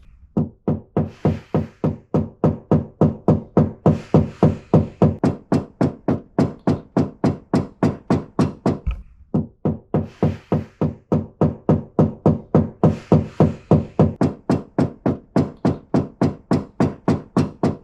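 Steady rhythmic knocking on the door panels of a Ford Mustang Foxbody, sharp close taps in an even series with a brief pause midway, no talk.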